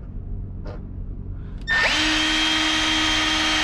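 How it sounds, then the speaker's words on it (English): A power drill starts up abruptly after a couple of faint taps, then runs steadily with a loud, high whine as it bores pilot holes through stainless steel. "some pilot holes with my drill. Going through stainless steel is pretty difficult."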